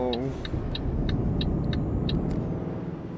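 Truck engine droning steadily while driving in Euro Truck Simulator 2, a continuous low rumble with rhythmic clicking ticks above it and a brief voice at the start.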